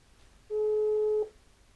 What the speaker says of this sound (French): allez, on téléphone au protagoniste en question